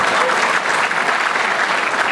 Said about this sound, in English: How about a big round of applause for Karen Lewis?